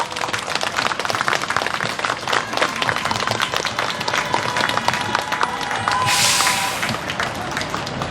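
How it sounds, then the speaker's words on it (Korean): A crowd applauds and claps at a hospital workers' strike rally for non-regular staff, with dense, steady clapping running throughout and a slight swell near the end. "큰 박수 부탁드리겠습니다"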